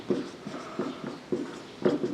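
Chalk or marker strokes on a board during a maths lesson, a series of short scratchy marks in uneven rhythm, close and fairly quiet, with no talking over them.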